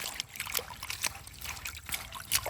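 Freshly picked mak mao fruit being rinsed by hand in water outdoors, giving a steady run of trickling, dribbling and light splashing sounds with brief sloshes throughout.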